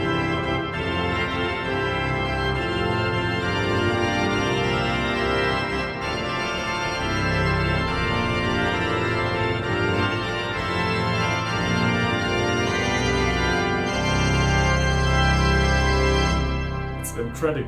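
A Dutch pipe organ, the Bovenkerk in Kampen heard as a sample set, plays a sustained full chordal passage with dense ranks and strong bass, loud and continuous, swelling slightly before a final release.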